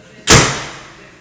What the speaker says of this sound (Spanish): la puerta trasera pesa mucho